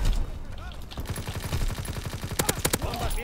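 Machine gun fire in Call of Duty WW2 rattles in rapid, rhythmic bursts, a steady stream of shots ending in a few louder sharp cracks, with a player speaking over the action.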